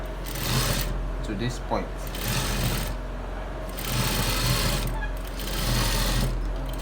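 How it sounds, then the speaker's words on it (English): Sewing machine stitching along a trouser side pocket, running in several bursts of steady rapid clatter with brief pauses between, close by, with a person speaking briefly over it. "Now I am going to stitch this pocket. I'm going to stitch it from this end"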